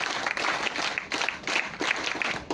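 An audience applauds at a ceremony honouring Indian rangers, with a steady wash of many hands clapping that swells and dips slightly throughout.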